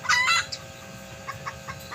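Chickens with chicks cluck close by on a small farm, one loud burst of clucking at the start followed by softer, scattered peeps and clucks over a steady background.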